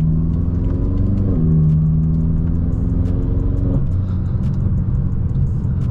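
A tuned 800-horsepower Stage 2 BMW M6 engine pulls hard and loud, its harmonic drone rising, dipping at a gear change, then climbing again in a steady heavy roar.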